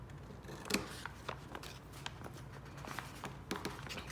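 Paper being snipped with scissors for a candy-paper plushie, a series of short crisp cuts with the blade resting on a table, close and fairly quiet, spaced irregularly over a soft background.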